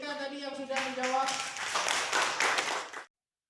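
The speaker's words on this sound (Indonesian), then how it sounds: "Beri tepuk tangan untuk Dika tadi yang sudah menjawab" Students in a classroom clap together in a brisk burst of applause after a voice speaks over the start, the clapping rising quickly and then cutting off sharply.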